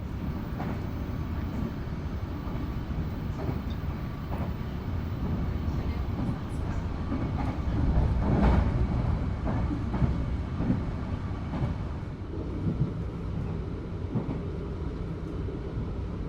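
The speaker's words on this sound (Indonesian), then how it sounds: "Kereta api Sancaka Utara yang saya naiki telah tiba di stasiun Lamongan." Inside the Sancaka Utara economy train in East Java, arriving at Lamongan station: a low, continuous rumble of rail and carriage noise with faint clicks and a brief swell midway, quiet and without speech.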